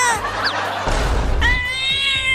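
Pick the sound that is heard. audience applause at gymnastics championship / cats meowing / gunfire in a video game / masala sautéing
cats meowing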